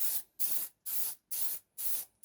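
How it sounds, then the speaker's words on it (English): An aerosol can sprays finish onto a newly made lathe tool rest in a workshop in five evenly spaced short hissing bursts, close and loud, with brief silences between them. "now it's time for a quick spray"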